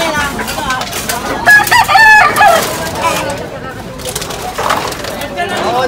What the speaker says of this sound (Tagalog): May mga kulungan pa na mga panabong ng manok.